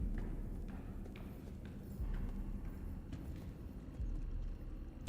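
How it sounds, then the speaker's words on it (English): Echoing footsteps from the video game Nine Sols, a steady run of soft, reverberant clip-clop steps at a walking pace, moderately loud with a muffled low thud to each footfall and no talking. "The echoing footsteps are pretty nice as a sound effect"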